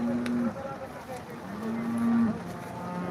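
A cow moos twice nearby at a cattle market in Modnimb, long low calls separated by a short pause, with faint farmyard background noise.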